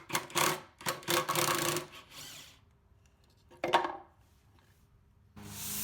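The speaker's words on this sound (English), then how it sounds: "The table got a final sanding" Rhythmic rasping strokes of hand sanding on a wooden coffee table, a quick run of scrubbing passes, a pause, then a few more strokes up close.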